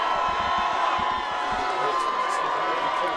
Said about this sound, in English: Plenty of fans cheering on the Ghosts